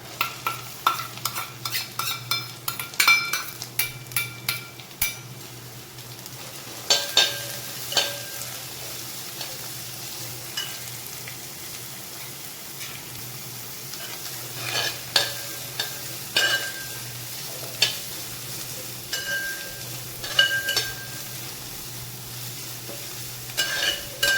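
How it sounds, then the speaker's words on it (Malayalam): A large onion frying with crushed garlic, ginger and green chilli for soya fry: a steady sizzle throughout, punctuated by frequent close spatula scrapes and taps against the pan. "ഇതൊരു വലിയ സബോളയാണ് കേട്ടോ അത് ഇട്ട് കൊടുക്കാം"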